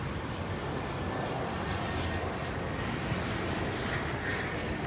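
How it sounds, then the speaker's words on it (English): Airplane engine passing overhead, a steady broad droning roar that holds fairly even and moderately loud throughout, with no talking over it. "That was another plane."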